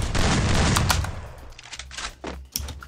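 Gunfire in the video game Free Fire rattles in a dense burst at first, then thins into a few scattered, separate shots with short pauses between them, loud and close with no talking over it.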